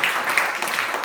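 Church congregation applauding during a worship service, a steady wash of clapping that holds at an even level for about a second, with no talk over it.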